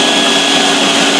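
A vacuum seeder runs while seeding clay-coated tobacco seed into trays, giving a loud, steady, airy motor roar that stays constant throughout and is heard close up with no talking.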